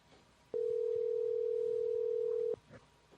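A telephone call's ringing tone sounds as one steady electronic tone lasting about two seconds, loud and clear, alone with faint room noise around it.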